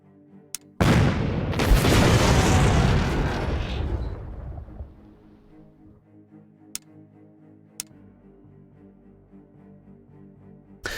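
A big naval explosion booms in the Battle Fleet 2 warship game, with a loud burst that rumbles and slowly fades over a few seconds, followed by quiet ambience and a few sharp clicks.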